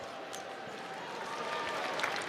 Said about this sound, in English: And Morsell getting a nice round of applause for his effort